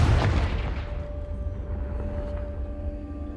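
Confringo fire-blast spell in Hogwarts Legacy, a deep booming burst that opens loud and decays into a rumbling tail, heard alone.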